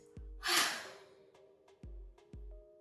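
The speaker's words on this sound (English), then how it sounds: "we're gonna lift up our hands in this victorious posture and keep yawning at the same time." Breathy yawns during a detox yoga session, done with arms lifted in a victorious posture. A long airy exhale comes up front and fainter breaths follow, with low thumps around them.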